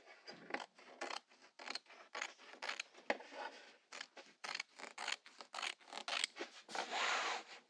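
Scissors snip repeatedly through fabric for an underpetticoat, a long run of close, crisp cuts in an uneven rhythm with short pauses between strokes, heard alone without any talking.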